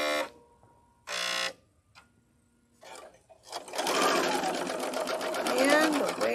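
Sewing machine stitching a holiday stocking without a presser foot: a couple of short bursts, then a steady, loud, rapid whir of stitching, with people talking at the start.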